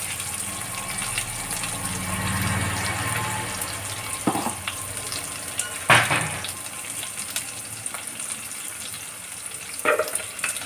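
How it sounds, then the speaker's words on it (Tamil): Curry leaves frying in oil in a pan for mint rice, a steady moderate sizzle with a few sharp clinks of a spoon against the pan. "இதில் கருவேப்பிலை போட்டுக்குவோம். இது நல்லா வதங்கட்டும்."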